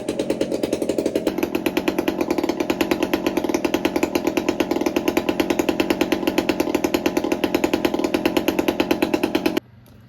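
A Pioneer hotsaw engine runs steadily up close at high revs, a loud rapid buzzing chainsaw-like drone that rises in pitch early on and holds, then cuts off abruptly near the end.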